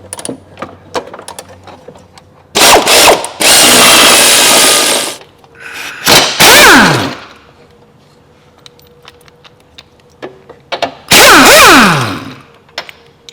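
Power tool driving off engine bolts during engine removal on a Kia Sedona/Carnival: three loud, close bursts of whirring and rattling, one ending in a falling whine, separated by quiet pauses.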